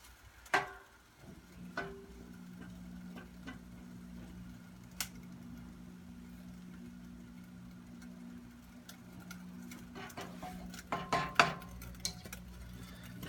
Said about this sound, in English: So right now I'm just trying to mix up the potatoes, making sure every one of them gets well done.